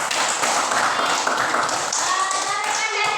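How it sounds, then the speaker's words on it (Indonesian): Students in a classroom clap together for a group, a dense, loud round of applause that holds steady for about three seconds. "Oke, tepuk tangan untuk kelompok 1."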